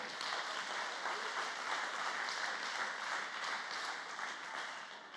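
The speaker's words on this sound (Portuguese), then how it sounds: "Dê uma salva de palmas ao Senhor." Steady applause from a church congregation during a sermon on family, a dense even wash of clapping held for the whole stretch at moderate, slightly distant level, with no voice over it.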